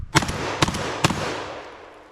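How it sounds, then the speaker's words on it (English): Three sharp, loud 12 gauge shotgun blasts fired in quick succession from a Benelli M4 or Genesis Arms Gen-12 with light number 8 birdshot loads, each with a ringing echo that fades away afterward. "we're just going to try it in the Benelli M4 and then in the Gen-12"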